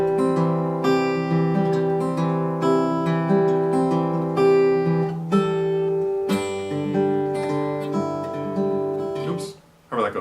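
Acoustic guitar plays a passage from a song with the open G ringing in the bass, plucked notes and chords ringing out clearly up close, ending with a brief scuffing noise.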